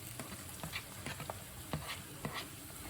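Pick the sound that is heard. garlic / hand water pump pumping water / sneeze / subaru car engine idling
garlic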